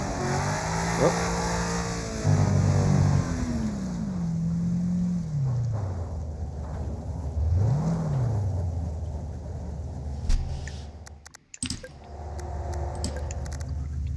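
A race car engine in Wreckfest revs loudly, rising and falling in pitch as it accelerates, with crashing and scraping noises near the end.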